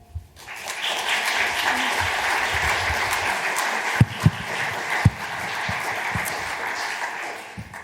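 An audience breaks into steady, full applause to welcome a speaker at an awards ceremony, the clapping dense and sustained for several seconds, with a few louder individual claps standing out near the end.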